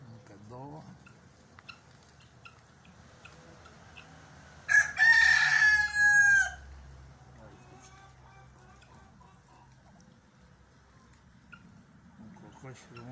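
A handsome rooster in a yard of ducks and other fowl crows once, loud and near, a drawn-out cock-a-doodle-doo lasting about two seconds. Quiet background noise and soft talk come before and after it.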